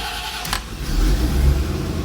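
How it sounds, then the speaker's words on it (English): A 1989 Chevrolet C4 Corvette cranks and catches on a cold start, a brief starter burst followed by the engine rumbling up into a rough, low idle, close and fairly loud. "that was a cold start"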